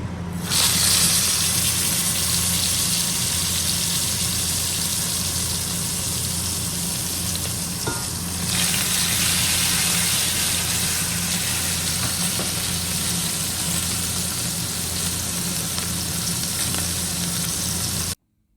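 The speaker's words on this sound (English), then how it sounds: "Let's put in 2 lamb shanks at a time and have a listen to the sound." Two lamb shanks sear in a Fissler Original Profi frying pan heated to about 200 degrees, giving a loud, steady sizzle and crackle that runs unbroken with no talking.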